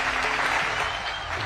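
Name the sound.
applause at a plaque unveiling ceremony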